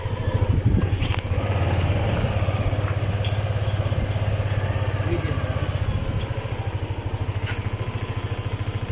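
A Yamaha Aerox V1 scooter engine fires up close by and settles into a steady, rhythmic putter at idle, loud and continuous throughout.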